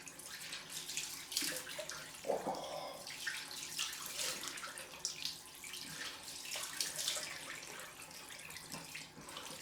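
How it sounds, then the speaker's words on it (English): Cold water from a tap runs steadily and splashes over a freshly shaved head during a rinse, a continuous gushing, spattering flow with irregular splashes, close and moderately loud. "Get this cold water on my dome."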